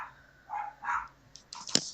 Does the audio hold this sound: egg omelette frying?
no